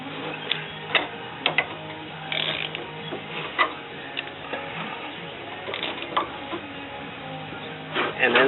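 A socket wrench on a car alternator belt gives repeated ratcheting clicks in short irregular bursts, close and fairly faint, with a louder clatter near the end.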